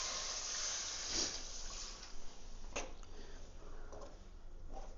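Water poured into a pan of fenugreek kara kuzhambu masala, a faint liquid splash and trickle with a few soft clinks and taps in a quiet home kitchen.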